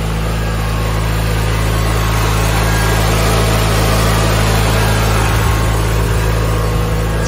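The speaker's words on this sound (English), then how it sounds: "Engine runs fantastic as you can hear it." A Briggs and Stratton 17.5 HP engine on a Craftsman 42-inch lawn tractor runs close by, a loud, steady idle that holds unchanged throughout with no voices.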